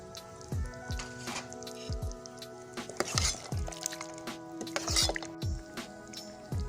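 Coconut cream and fish sauce going into a panang beef curry cooking over a charcoal stove, giving wet drips, splashes and soft squishing stirs in irregular bursts at close range.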